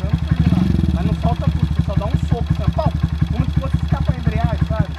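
A Honda Titan 160 motorcycle engine runs close and loud with a rapid, throbbing, chattering exhaust pulse that surges briefly, then holds at a fast, even rhythm.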